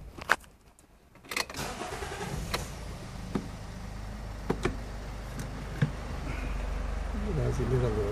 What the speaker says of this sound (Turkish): Aracı bir çalıştırayım.